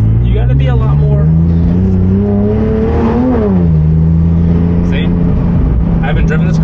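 A sports car engine revs and surges, pitch climbing then dipping as it shifts, with a lurching rise in the middle as the car lunges between first and second gear; steady and close throughout.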